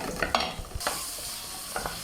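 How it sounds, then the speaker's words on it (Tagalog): Onions sautéing in a pan for spaghetti sauce, a low sizzle with a few quick stirring and scraping clatters, close and fairly quiet with no voices. "ito na yung sibuyas na gigisa na si ate"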